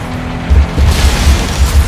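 A car explodes in the FlatOut 2 racing game with a loud, deep boom that lands amid a continuous rumble of engines and tire noise, with low thumping pulses running throughout.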